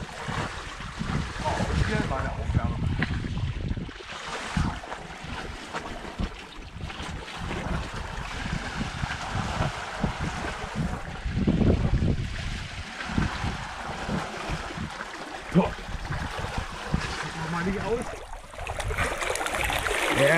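Sailboat under sail heading toward Mexico, with steady wind and water rushing along the hull, continuous broadband noise, gusting wind buffeting the microphone, and occasional voices in the background.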